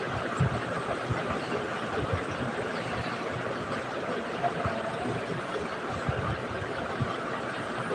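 A train runs with a continuous rattling rumble that stays steady and moderately loud throughout.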